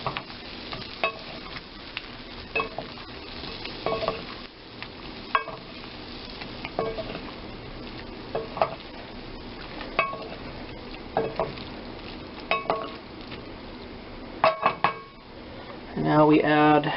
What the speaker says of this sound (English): now our next step is to add 1 teaspoon of lemon juice and toss it a little more